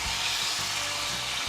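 Tandoori chicken pieces sizzling in a covered pan after being flipped, a steady close frying hiss with faint low bumps beneath.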